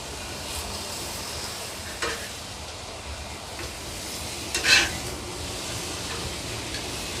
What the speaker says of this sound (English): So I'm definitely getting a sear.